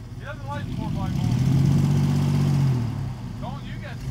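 A mini quad's engine labours through mud, its mid-pitched drone swelling and holding steady in the middle before easing off, with excited voices shouting at the start and end.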